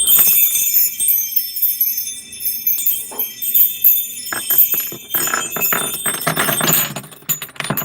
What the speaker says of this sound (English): Really pretty wind chime there.